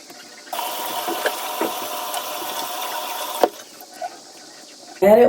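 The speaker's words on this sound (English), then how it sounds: "Added water" Running water pours into an oil-based pre-cleanser for a morning skincare routine, a steady close splash for about three seconds, then softer handling noises and a short louder rustle at the end.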